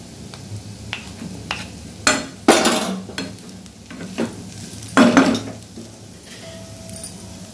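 Potato pieces fry in a pan with a low, constant sizzle, broken by several sharp scrapes and clinks as a spoon stirs and turns them, close by.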